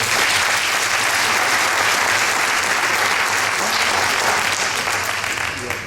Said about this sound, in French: Je demande quand même de l'applaudir.